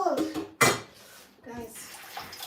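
Cold tap water splashes into a kitchen sink while bok choy is washed, with dish clatter and a person talking over the running water.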